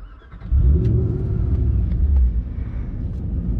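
A Ford GT's engine fires up with a burst at about half a second, then settles into a loud, deep rumbling idle that carries on steadily to the end, close by with no talk.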